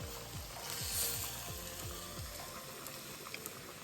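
Unseasoned chicken pieces sizzle and fry in a pan, a steady close crackle with a run of soft rhythmic scraping strokes as they are stirred around, no talking.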